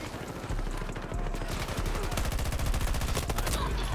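Rapid automatic gunfire in an online shooter game, a dense, loud stream of shots firing continuously for several seconds, close and steady.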